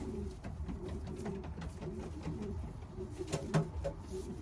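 A racing pigeon coos in soft, low, repeated rolls, fairly close, with light background rustle and a brief sharper sound near the end.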